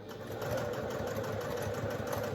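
A sewing machine stitches a COSYpouch at a 3.5 stitch length, a steady, close, rapid mechanical whirring that runs evenly without pause.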